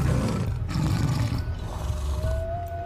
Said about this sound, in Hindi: दर्द में बाघ मुंगली को छोड़ देता है